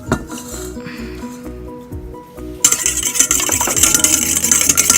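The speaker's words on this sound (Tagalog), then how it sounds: "Ang gagawin ko po ngayon, ibibit ko yung egg." An egg is beaten in a bowl for corn dog batter: rapid, rhythmic clinking and tapping of a utensil against the bowl starts abruptly partway through and continues briskly, preceded by quieter background music.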